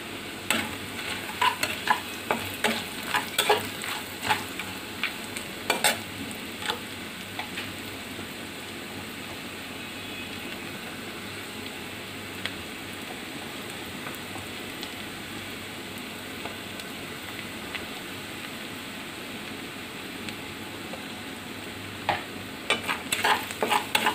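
Onions frying and being stirred in hot mustard oil with bay leaves and whole garam masala, a steady close sizzle over the whole stretch with scattered scraping clicks of the spoon in the pan.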